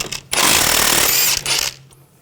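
A ratchet with an 18mm socket loosening a nut on a 2000–2006 BMW X5 front strut mount, giving a loud rapid metallic clicking burst of about a second, a short pause, then a brief second burst.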